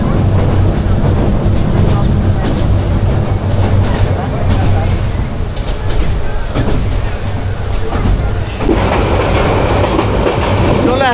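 The Subarno Express train runs from Dhaka to Chittagong with a loud, continuous rumble and rhythmic clatter of wheels on rails, heard from inside, with faint voices in the background.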